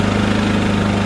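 A Champion 3400 generator engine running during break-in, a steady close loud hum with constant low throb and no other sounds.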